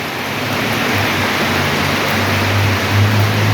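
Light rain falls steadily as a broad, even hiss with a low engine hum beneath, constant and close throughout.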